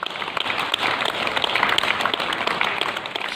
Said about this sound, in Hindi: ये ताली कोरोना के साथ जंग में जीत की है।